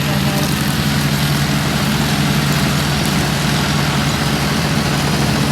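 A tractor towing a loaded trolley runs in low gear, its loud, close, rumbling diesel engine droning continuously throughout.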